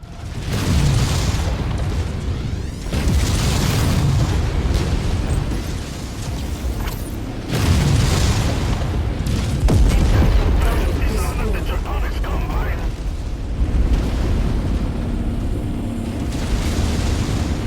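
MechWarrior 5 combat, with a Hunchback mech firing heavy weapons and repeated booming explosions and mechanical rumble. The bursts are loud and sustained, with stretches of dense battle noise and a voice talking over it.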